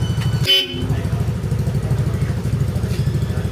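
Bosch Europa horn fitted to a Yamaha Lexi 155 scooter gives one short loud toot, followed by a steady rhythmic idling putter with someone talking over it.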